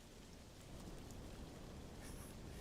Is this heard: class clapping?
no